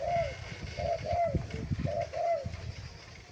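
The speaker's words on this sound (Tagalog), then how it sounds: "Kahit malayo yung mga ibon ay lalapit talaga kasi marinig nila yung huni ng ibon." A repeated cooing bird call played from a phone through a Bluetooth speaker to lure birds on a mountain, slightly tinny, reproduced tone, several short phrases in a row, under soft background noise.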